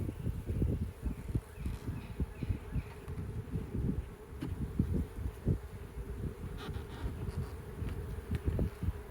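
Honey bees from a swarm trap hum in a continuous, low, steady drone close by, with occasional buzzes as individual bees pass near.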